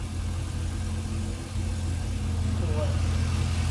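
A Chevy car engine runs at a steady idle, a constant low rumble close to the microphone, with voices talking faintly in the background.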